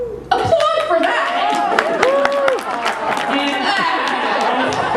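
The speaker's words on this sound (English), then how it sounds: "Applaud for that!" A crowd applauds and cheers loudly and steadily at a comedy talk, with voices and laughter mixed into the clapping throughout.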